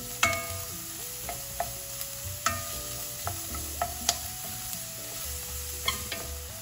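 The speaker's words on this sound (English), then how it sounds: "we're gonna add our onion. This is just one medium onion that I cut up. And we're gonna saute that for about 3 minutes." One medium chopped onion sautés in a hot skillet, a steady close sizzle carrying sharp periodic stirring scrapes, with a faint background tone and no talking.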